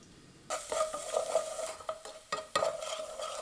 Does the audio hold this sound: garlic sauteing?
yes